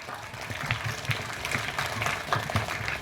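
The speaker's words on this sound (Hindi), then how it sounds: "तालियां बजाते रहिए आप।" An audience at a school Independence Day celebration claps in uneven bursts, moderately loud and slightly distant, with a faint voice or music underneath.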